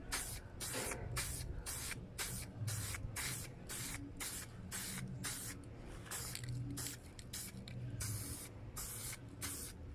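Spray paint can coating patio furniture outdoors, loud, close hissing bursts in a regular rhythm of short light passes, each spray cut off by a brief pause, with no talking.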